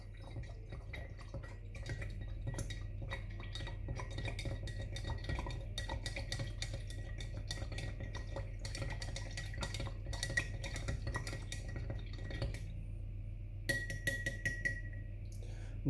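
A disinfected rod stirs homemade hand sanitizer solution, scraping and clinking against the glass container with dense, irregular taps and faint dripping throughout, steady and fairly close.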